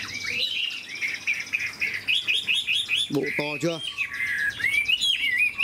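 A caged hwamei, or Chinese laughingthrush, sings a continuous loud, varied run of whistled phrases close by, with someone briefly speaking partway through.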